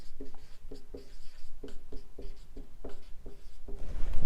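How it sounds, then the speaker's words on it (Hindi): Someone writes on a board during a Class 12 maths lesson, making steady, close scratchy strokes in short repeated bursts with brief gaps between them. "तो हम यहाँ पे लिखेंगे R"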